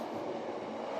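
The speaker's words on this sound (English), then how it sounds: "sorry about the train" A passing train rumbles by in a steady, moderately faint wash of rolling wheel noise with a low hum, lasting only a moment.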